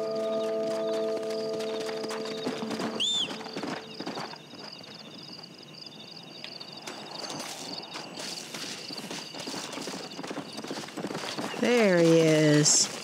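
Horse hooves clip-clopping in the video game Red Dead Redemption, a steady walking beat on hard ground with a neigh partway through and another whinny near the end, a voice talking throughout over game music.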